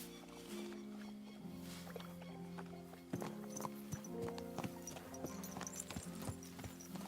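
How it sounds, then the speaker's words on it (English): Horse hooves clip-clop steadily in Kingdom Come Deliverance 2, a medieval-style video game, with a continuous rhythmic patter of hoofbeats over a droning musical score and ambient background. "Easy, good horse. Whoa, whoa."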